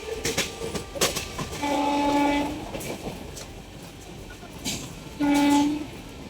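A passenger train travelling, with steady rolling rumble and clatter close by and two long horn blasts sounding over the running noise, the second near the end.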